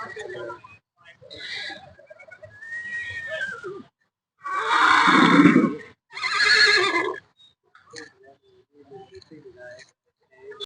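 Two loud, drawn-out horse whinnies ring out close by in the middle of a Diwali horse fair in Amritsar, framed by scattered talking and quieter background sounds before and after.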